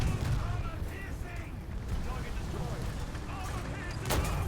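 A tank cannon fires in a War Thunder battle, the shot landing right under an enemy turret; a deep boom and rumbling blasts roll under steady battle noise, with a sharp crack near the end.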